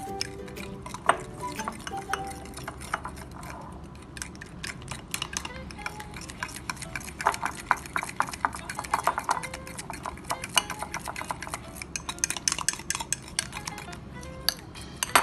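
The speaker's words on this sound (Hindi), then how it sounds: "अब इसको हम मिक्स करेंगे अच्छे से।" Chicken being mixed with salt, turmeric and chili powder, with spoon or hand clinks against a metal bowl and soft wet stirring. The clicks keep coming close and steady for the whole stretch, with no voices.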